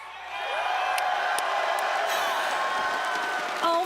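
A large esports arena crowd at a Rainbow Six Siege playoff tournament cheers and whoops continuously, a loud sustained roar of voices that swells steadily without pause.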